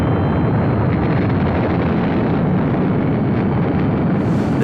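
The Moonraker 6 space shuttle launches in the 1979 film Moonraker: a dense, continuous thundering rocket roar, very loud and steady throughout, with no talk.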